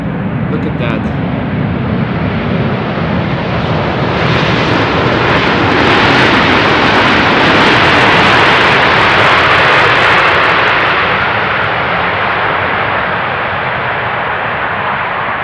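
A jet airliner lands on runway 18R at Amsterdam Schiphol Airport, a loud, continuous engine roar that swells in the middle and holds steady, with someone talking over it.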